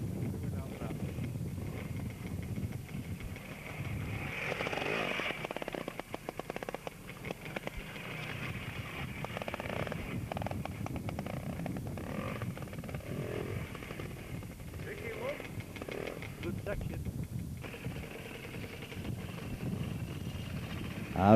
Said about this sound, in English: Two-stroke rider, Bill Hill.